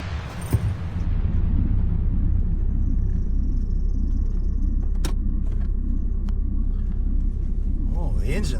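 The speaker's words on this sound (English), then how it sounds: "Oh, the engine sounds funny." A car engine idles steadily with an odd, uneven rumble, a constant low drone with a few faint clicks and rattles over it.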